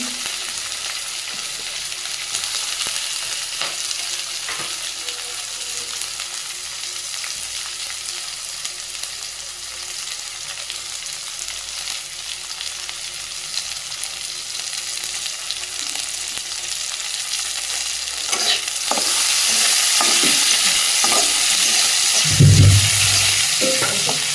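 Garlic and onion are frying in a pan alongside fish, with a continuous close sizzle and crackle and a few scrapes of stirring; the sizzle swells louder and brighter toward the end.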